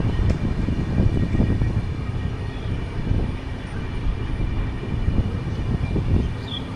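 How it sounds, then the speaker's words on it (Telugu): Araku train pulling out of Araku railway station in the rain, a steady low rumble of wheels and carriages close by, continuous for the whole stretch with no talk. "అరకు ట్రైన్ అరకు నుండి బయలుదేరింది"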